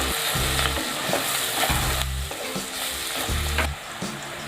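Zunka made with besan fries in a pan as coriander goes in, a constant sizzle with repeated scraping and stirring strokes of a spatula, close and moderately loud, with no talking.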